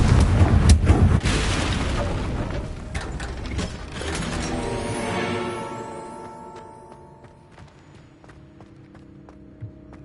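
Confringo blasting spell from Hogwarts Legacy: a loud, dense burst with booming low rumble and crackling mechanical debris that fades over several seconds into lingering ringing tones and scattered ticks.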